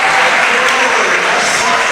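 Large crowd packing the gym at a high school girls' basketball sectional final, Haddon Township versus Wildwood, roars and claps in a loud, sustained wash of cheering and applause.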